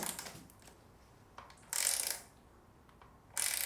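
Bolts on a bicycle handlebar stem being tightened, producing close, quiet mechanical clicks and ratcheting bursts in separate bouts.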